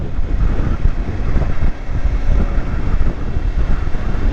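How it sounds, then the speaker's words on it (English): Strong wind buffets the microphone on a dam wall during a motorcycle tour, a loud continuous low roar with gusty swells throughout. "wind's strong"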